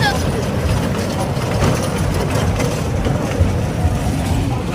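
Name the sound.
kids' ride train running at a fair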